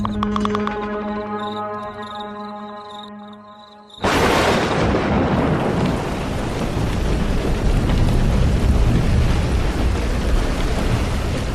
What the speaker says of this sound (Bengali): প্রবল ঝড়ের দাপটে ঘুমটা ভেঙে গেল।